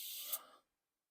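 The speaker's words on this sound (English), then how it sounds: "Spray a bunch of white lithium grease in there." White lithium grease sprays from an aerosol can in one short hissing burst of about half a second, close and fairly loud, then cuts off into silence.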